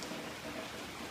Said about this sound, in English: it's been raining for about 2 days straight like this.